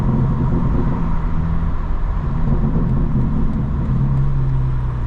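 A 2025 BMW M4 Competition xDrive, warmed up and cruising, gives a steady low engine drone and road rumble from inside the cabin, with a slight swell of revs but no talk.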